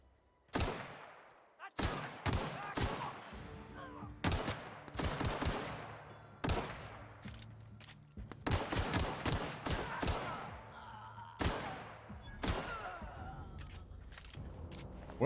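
Repeated bursts of gunfire from The Outer Worlds, sharp reports in quick clusters and fusillades with short gaps between volleys, loud and close throughout.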